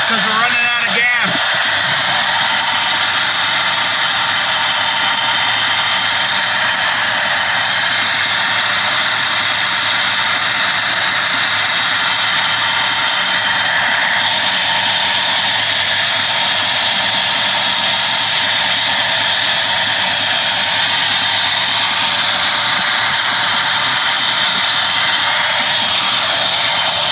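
A 1984 Ford LTD Crown Victoria under restoration idles on its own, running low on fuel, its engine droning steadily and loudly at close range for the whole stretch with no break.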